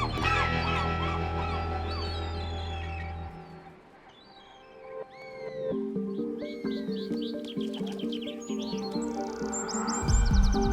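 Gulls at a British seaside town call in repeated shrill, rising cries, mid-distance and overlapping, over a busy outdoor backdrop with a low steady hum at the start and scattered clattering noises later.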